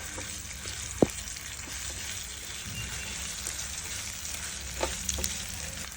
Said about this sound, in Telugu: దీనిలో 1 స్పూన్ అల్లం వెల్లుల్లి పేస్ట్ వేసి బాగా వేయించుకోండి.